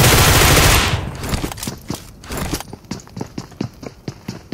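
Gunfire in the mobile shooter PUBG Mobile Metro Royale: a dense, loud opening burst, then a rapid string of sharp single shots at an even, quickening pace, fairly close.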